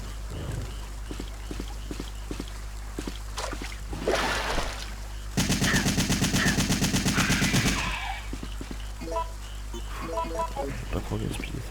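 Rapid automatic gunfire from a weapon in the video game Resident Evil 3, a dense burst of shots lasting a few seconds over steady game ambience, with someone talking before and after.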